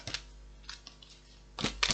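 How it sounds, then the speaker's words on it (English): Oracle cards being shuffled by hand, giving soft papery riffles and taps in short bursts, clustered at the start and again near the end, close and fairly quiet with no talking. "This is not the easiest deck to shuffle."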